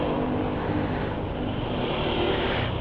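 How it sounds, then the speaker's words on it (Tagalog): Kawasaki Dominar 400 motorcycle riding with a suddenly loud exhaust and an apparently loose silencer, a steady, dense engine roar with wind rush that fills the whole short stretch. "Parang matanggal yung silencer nito, biglang umingay."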